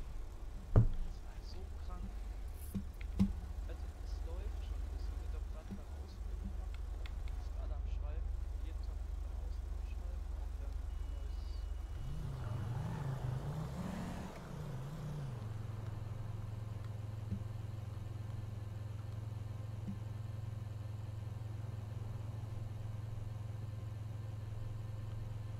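A car driven in the FiveM GTA V roleplay game, an emergency doctor's vehicle in Gelsenkirchen, hums with a steady low engine drone throughout, a brief revving surge midway, and a few knocks early on.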